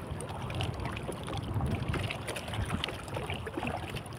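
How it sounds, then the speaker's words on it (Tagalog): Strong wind buffets a fishing boat at sea, a continuous rough rushing noise with water sounds, moderately faint and with no talk. "Malakas talaga ang hangin ngayon"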